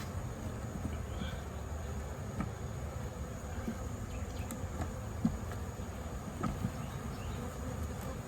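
Honey bees hum softly and continuously during the inspection of two nucleus hives full of honey and propolis, a faint steady buzz with occasional small knocks and clicks of frames being handled.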